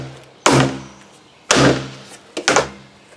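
Three sharp knocks of a hand or tool banging on tile set over an adhesive mat, loud and close, with the third coming as a quick double hit. Each impact rings briefly, and no one talks.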